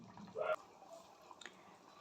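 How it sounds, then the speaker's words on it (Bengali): Crisply fried rui fish pieces drop into a boiling curry gravy with a single short, wet splash and sizzle, followed by faint bubbling and a few soft drips in an otherwise quiet kitchen. "আমি এখন এর মধ্যে মাছ ভাজা যে মাছগুলোকে ভেজে রেখেছিলাম সেগুলোকে দিয়ে দেব।"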